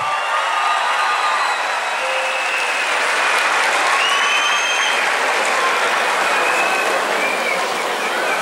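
Strong, sustained audience applause at a public event in Sakarya, a dense, loud wall of clapping holding steady for several seconds as the metropolitan mayor is welcomed onto the stage, with no talking.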